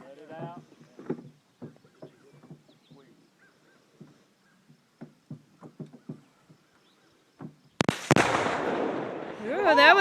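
An exploding target from the Sure Shot brand is shot and detonates in one loud, sharp blast, its roar and rumble trailing off for a couple of seconds. It comes after a stretch of talk and quiet movement nearby.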